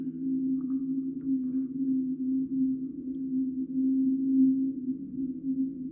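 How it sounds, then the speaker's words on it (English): A low, droning tone from a time-stretched sample in Koala Sampler holds steady with a slow, smeared wobble, an eerie stretched ambient sound with no clear beat. "it's going to sound different because it's stretching the sample"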